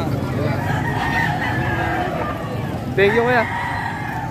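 Rooster crowing at a chicken market in Padre Garcia, Batangas, one short crow rising out of busy background chatter and market noise, with voices talking throughout.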